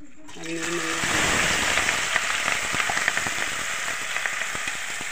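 A tempering of chopped garlic, onion, chilli and tomato hits hot oil with a sudden loud burst, then settles into dense, rain-like crackling and popping close up, while a voice talks over it.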